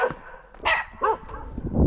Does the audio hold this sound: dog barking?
yes